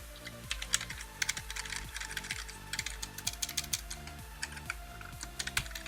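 Keys on a Defender Metal Hunter membrane keyboard are typed in a steady run of soft, close clicks and taps, somewhat quieter than a mechanical board, with no one talking.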